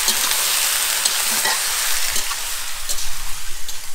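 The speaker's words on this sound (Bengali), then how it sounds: "চলো রান্না হোক" Food fries in a pan during home cooking, a continuous bright sizzle with soft crackles and stirring scrapes, close and steady with no talk.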